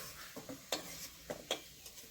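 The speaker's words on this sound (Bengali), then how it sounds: "হালকা করে আলুগুলো ভেজে নিলাম" Potatoes fry in a pan with a quiet sizzle, while a few short scrapes and taps of a utensil come through clearly against the faint background.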